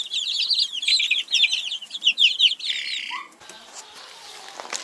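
In a poultry yard, chicks chirp in a rapid run of high, bright peeps, fairly close and loud, then fade into softer scattered rustling and faint background noise.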